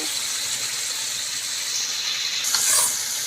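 Ridge gourd stir-frying in a pan with previously fried potatoes and ground coriander, a steady loud sizzle with a brief burst of hissing spatter near the end, close up and without talk.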